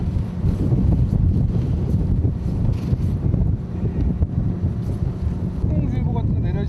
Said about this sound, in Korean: 거친 바람과 파도가 조기잡이를 더욱 힘들게 한다.